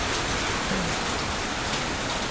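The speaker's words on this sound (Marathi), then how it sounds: "आता पाहिलं तर प्रचंड मोठा जोरदार असा पाऊस चालू झालेला आहे" Heavy unseasonal rain falls hard in Chhatrapati Sambhajinagar, a loud, unbroken roar of water hitting the ground that fills the whole moment without pause or voices.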